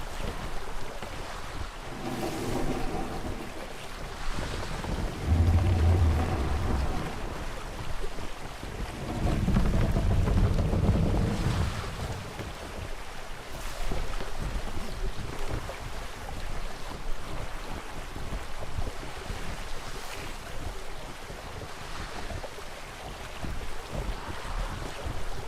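Sailing ship gliding across calm water in the video game Atlas, a continuous low wash of wind and gentle waves with slow swells of rumble, steady and unbroken with no voices.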